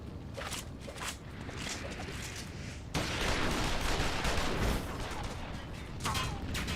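Gunfire from soldiers in Final Fantasy XIV: Stormblood, dense bursts of shots and crackling impacts filling the scene, rising louder midway and continuing steadily without speech.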